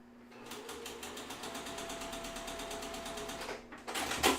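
A sewing machine re-stitches quilt pieces with a steady, fast mechanical whir and rapid needle ticking for about three and a half seconds, then stops abruptly and is followed by a brief louder handling clatter.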